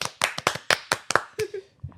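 A few people clap in short uneven bursts, close and loud, with a brief voice near the end.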